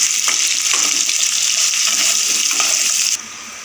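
Potato pieces frying in a pan for a Bengali dhokar dalna, a dense, steady close sizzle with a few light clinks, cutting off abruptly near the end.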